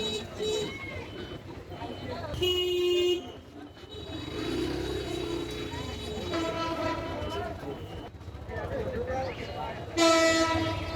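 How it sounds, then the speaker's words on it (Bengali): A train passes a rail crossing while road traffic sits in a jam, with horn blasts near the start and again near the end over a steady rumble of engines and traffic. People talk throughout. "ট্রেন সম্ভবত এখনই চলে আসবে,"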